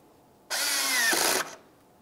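A power tool drives the radiator mounting screws into a 2011-2018 Volkswagen Jetta, one close, loud whirring burst of about a second that changes pitch near the end before stopping.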